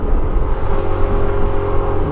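Traffic in Baguio City, heard from a Yamaha Nmax 2023 scooter, makes a steady, close engine drone with road rumble. It stays loud throughout, with no talk.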